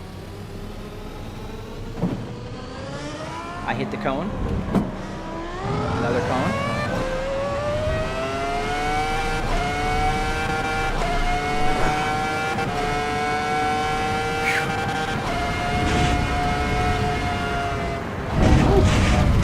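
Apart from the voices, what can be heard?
Ferrari F1 car engine in video game Assetto Corsa Evo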